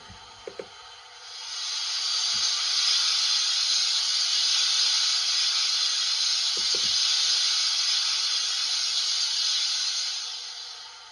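A steady, loud hiss of steam from a Hornby Black 5 model steam locomotive's DCC sound unit is released and holds for several seconds, framed by a few faint clicks before and during it.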